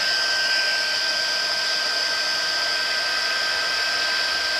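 Embossing heat tool blowing hot air for custom coloured embossing, a steady loud whooshing fan hiss with a constant high whine, running continuously throughout with no voices.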